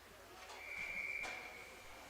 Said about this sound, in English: And that will be whistled dead for an icing